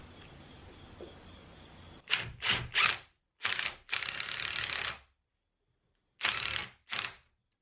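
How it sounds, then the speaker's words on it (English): A drill drives 3-inch screws into wooden ladder feet in a run of short, ratcheting bursts, each a second or less, with quiet pauses between, close and clear, with no talk. "Just going to attach these with some 3-inch screws."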